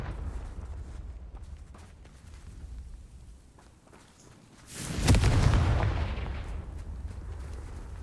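A Confringo spell explodes in the Hogwarts Legacy video game, a sudden loud blast rumbling over a low ambient backdrop, then a sustained fading roar.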